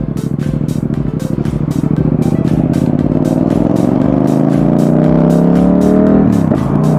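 A Yamaha XSR700 motorcycle pulls away and accelerates, its engine note climbing steadily in pitch and loudness, close and continuous, with a regular ticking clatter running throughout.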